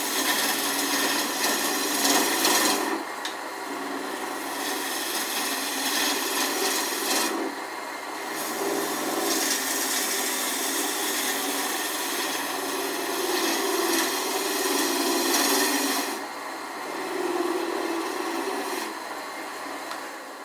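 A roughing gouge cuts wood spinning on a lathe, giving a continuous rasping, scraping hiss that swells and drops as the tool is repositioned, with brief quieter gaps between passes.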